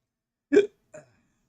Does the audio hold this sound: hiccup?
yes